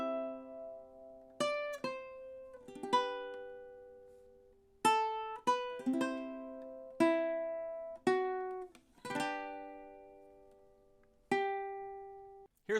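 A ukulele plays the melody of measures 14 to 17 of The Star Spangled Banner, a beginner's tune of about eleven clear plucked notes in a steady rhythm, each ringing and decaying, heard alone up close.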